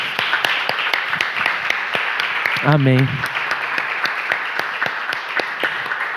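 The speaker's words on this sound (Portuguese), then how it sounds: "Uma salva de palmas para o Senhor." Church congregation applauding during a Father's Day service, steady rhythmic clapping from a crowd with a voice briefly calling out over it.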